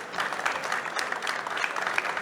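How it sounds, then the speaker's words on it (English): Audience applause for the speakers at the close of a panel discussion on mobility trends and innovations, a steady, dense patter of clapping from a room of people lasting a couple of seconds without a break. "I would like to invite a round of applause for all of them."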